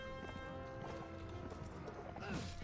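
Horse hooves clip-clopping at a gallop in the medieval combat game Mount & Blade Warband, a steady rhythmic pounding over game music and battle noise, with a whinny near the end.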